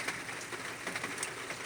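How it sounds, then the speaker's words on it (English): Rain falls outside as a soft, steady hiss, with faint scattered drop ticks on surfaces. It is quiet and distant, with no voices. "So it started raining again"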